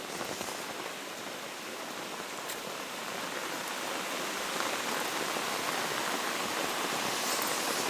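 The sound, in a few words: heavy rain and rising water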